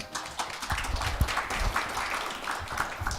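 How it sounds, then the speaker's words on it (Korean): Audience at an indoor Korean award ceremony and forum applauding to welcome a professor to the stage, steady dense clapping from a crowd, moderately close. "여러분 뜨거운 박수와 함께 환영 부탁드립니다."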